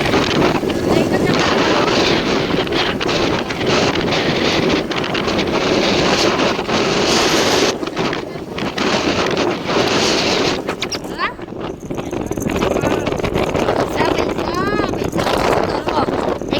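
Strong, cool wind blows outdoors and buffets the microphone with a constant loud roar and rumble for the whole stretch, dipping briefly midway. A voice talks faintly underneath.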